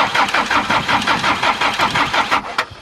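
A broken-down diesel vehicle stuck on an expressway, short of fuel, cranking as someone tries to start it: a fast, steady rhythmic chug of the starter turning the engine over, close and loud, with no catch.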